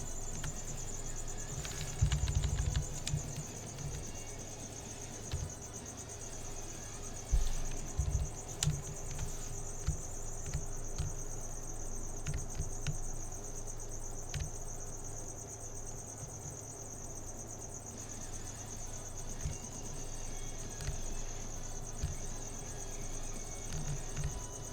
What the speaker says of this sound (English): Thank you for your contribution, crickets. Chirping away their critiques.